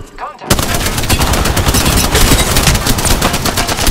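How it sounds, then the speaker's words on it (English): Rapid automatic gunfire from the Apex Legends video game bursts in suddenly and continues as loud, dense, sustained shots with no break. "Opening fire on the enemy."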